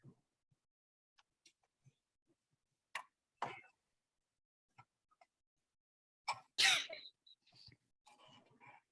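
A single sharp sneeze bursts out in a quiet lecture hall during a chemistry class, mid-distance, after scattered faint taps and shuffles.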